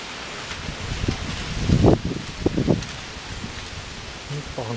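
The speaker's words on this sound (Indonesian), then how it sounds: "Ini angin gede banget." Strong wind blowing through trees at a home, with a broad steady rush and a louder gusty swell of rustling near the middle. Faint voice sounds are mixed in.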